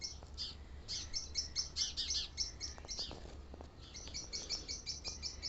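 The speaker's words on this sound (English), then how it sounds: "These are kingfishers." Kingfishers call in rapid, repeated high chirping bursts, close and fairly loud, forming an almost continuous twittering stream with a brief pause midway, over a low outdoor rumble.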